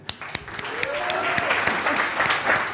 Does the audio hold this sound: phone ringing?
no